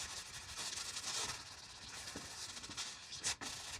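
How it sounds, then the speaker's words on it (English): Sanding block or paper rubbing over a dried drywall compound patch, a steady close scraping hiss with light rhythmic strokes and a brief louder swipe near the end. "Give that a quick little sand."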